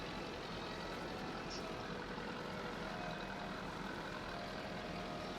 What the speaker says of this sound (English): This tractor is just about pulling